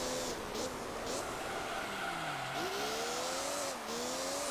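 Car engines rev and shift in the Gran Turismo 3 racing game, with whining pitch sweeping up and down and a tire squeal, loud and continuous with no talking.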